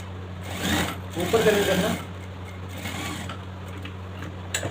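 A sewing machine runs in close, steady bursts as it stitches a trouser belt starting at the pocket mouth, with a person talking over the whirring needle.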